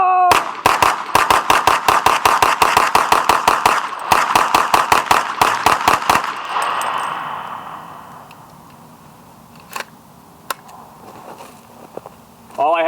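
About thirty rounds fire in rapid, evenly spaced succession from a close, loud gun for about six seconds, then stop abruptly, leaving a ringing tail and a few faint clicks.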